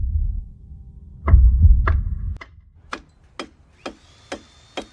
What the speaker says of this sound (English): at the very beginning you can hear these two things, a clock ticking and a heartbeat-like rhythm